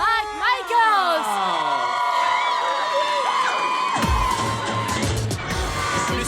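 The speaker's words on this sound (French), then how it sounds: "Applaudissez le seul et l'unique Morgan Mike Michaels!" A bar crowd cheers and applauds for a performer being introduced, rising into loud whoops and clapping after an announcer's voice with music-like tones early on.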